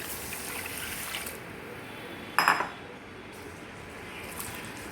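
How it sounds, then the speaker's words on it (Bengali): Uncooked rice is washed by hand in water in a bowl, making a quiet, continuous swish with one brief, sharp clink of the bowl partway through. "এই চালটাকে ভালোভাবে ধুয়ে নিতে হবে প্রথমে"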